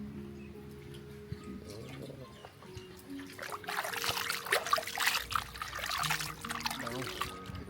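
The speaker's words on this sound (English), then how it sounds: "So first it's a wash of the feet." Water poured over feet for a foot wash on Koh Kood island, Thailand, a soft trickling and splashing that builds midway and keeps running to the end, fairly quiet against faint outdoor background.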